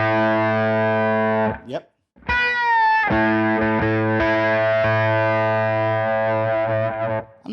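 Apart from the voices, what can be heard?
electric guitar with strange octave fuzz tone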